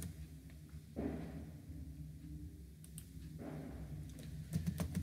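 Java code is being typed on a computer keyboard, giving sparse, close clicks that turn denser and sharper toward the end over a low steady background hum.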